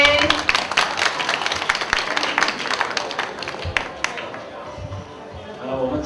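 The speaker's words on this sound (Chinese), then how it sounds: "所以我们有委托到我们的军训室主任杨总教官来跟大家致辞，我们掌声欢迎。" An audience at a university campus event applauds to welcome a speaker, a dense, steady patter of many hands clapping that thins toward the end.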